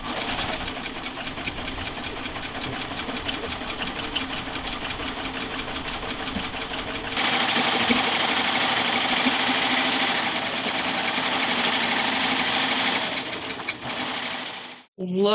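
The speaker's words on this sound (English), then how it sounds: "all it is a 4-thread overlock with a bias binder" A Baby Lock Triumph 4-thread overlock machine runs bias binding onto quilted fabric, a fast steady mechanical whir that grows louder partway through, then stops abruptly near the end.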